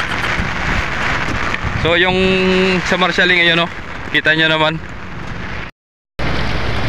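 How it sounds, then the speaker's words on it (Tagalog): Heavy rain pours at a ship port's vehicle marshalling area, a constant broadband hiss under someone speaking, with a brief cut to silence near the end. "So ayan, lakas ng ulan."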